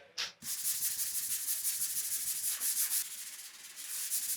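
A primed flush exhaust vent cover is hand-sanded smooth, a close, continuous rhythmic rasping of abrasive strokes that runs steadily after a short opening rub.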